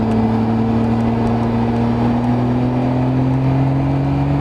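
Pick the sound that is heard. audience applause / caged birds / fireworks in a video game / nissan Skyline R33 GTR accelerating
nissan Skyline R33 GTR accelerating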